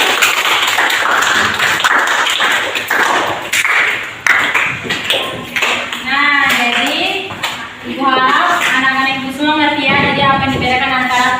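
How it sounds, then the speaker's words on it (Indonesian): Classroom applause from students at the close of a group presentation in a biology lesson, dense clapping filling the first part, then fading under a teacher's and children's voices talking. "Tepuk tangannya."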